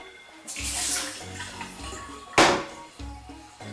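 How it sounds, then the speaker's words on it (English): Whey drains off curds during the making of Pyrénées-style cheese with green peppercorns, a steady pouring, trickling wash of liquid with a louder splash midway, close and continuous. "there's still a lot of whey coming off. So over the course of an hour, burn is going to drain off."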